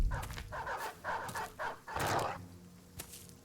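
Dogs in a video game fight against brigands, barking and yipping in several close, rapid bursts over combat noise, tapering to a single yelp at the end.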